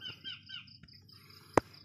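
Birds call around a quiet farm field in the morning: a few short chirping, warbling notes at moderate distance, then a sharper close call near the end, with chicken-like clucks faintly in the background.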